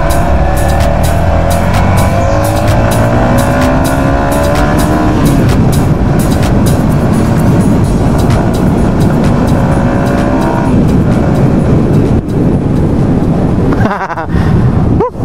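Yamaha XSR 155 motorcycle on a test drive, its engine revving up through the gears with rising pitch sweeps, loud and close with wind noise, easing off near the end.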